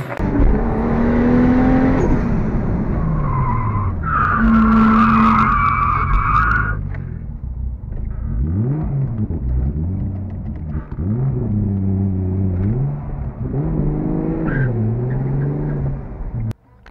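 A BMW E36 drifts at a season-opening event, its tires skidding in long squealing howls over a loud rumbling engine that rises and falls with throttle, heard close and continuous for the whole stretch.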